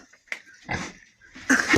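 Pigs in a village pen grunt in a few short, close bursts on a frosty winter evening, loud and rough with quiet gaps between.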